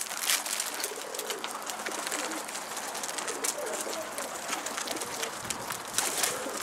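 Pigeons cooing while being fed scattered grain outdoors, soft repeated coos mixed with wing flutters, pecking and busy background clatter, moderately close and continuous.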